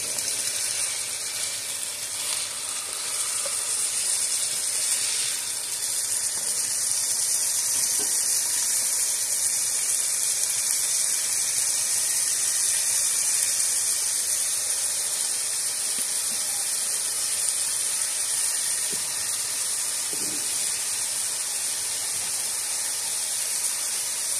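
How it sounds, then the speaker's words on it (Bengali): Potatoes frying in oil in a pan for a bitter gourd style fry, a steady close sizzle and hiss that runs unbroken throughout with no voices. "আলুটা আমি ভালো করে নেড়ে চেড়ে"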